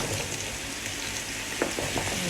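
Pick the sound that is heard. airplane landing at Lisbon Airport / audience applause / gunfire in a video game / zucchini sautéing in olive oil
zucchini sautéing in olive oil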